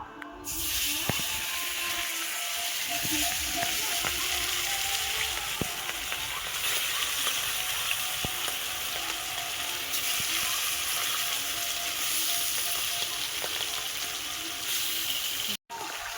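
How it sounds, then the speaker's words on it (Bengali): Belly pieces of pond-raised pangas fish fry in bubbling hot oil in a home kitchen, giving a steady, dense sizzle and hiss that runs unbroken and fairly close, with a few faint clicks. "তেল ফুটছে খুব এগুলো পেটি মাছ দিয়েছি না"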